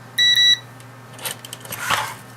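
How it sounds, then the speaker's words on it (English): A multimeter in continuity mode gives one short, clear electronic beep as its probes touch, followed by faint clicks and handling noises. "so we've got multimeter, which will do continuity mode. Test the probes."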